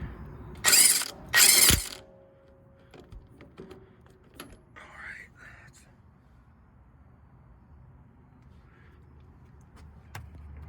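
A ratchet wrench works a nut on the steering drag link of a 2006 Chevy C5500 truck, giving two short, loud bursts of clicking close by, followed by a quiet stretch with faint scattered knocks.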